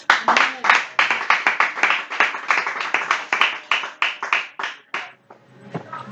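A church congregation claps steadily in a fast, even rhythm for about five seconds, loud and close, then the clapping trails off into scattered claps.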